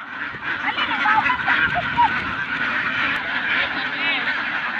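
Ducks on a free-range duck farm in the Philippines quack and honk in a dense, continuous chorus close by, while a person talks over the flock.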